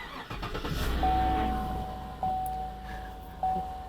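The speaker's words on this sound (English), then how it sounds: "So let's go ahead and start the car up." A car engine cranks and catches, settling into a steady idle, with a faint electronic beep sounding a few times over the running engine.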